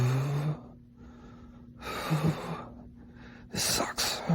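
Labored, shaky breathing from a person suffering rigors after an IL-2 infusion, with ragged gasping breaths and sharp snort-like exhales heard close and quiet.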